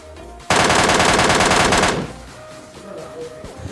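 Automatic gunfire from the video game PUBG Lite rips out in one loud, rapid burst of about a second and a half, then fades into a quieter tail of faint game ambience.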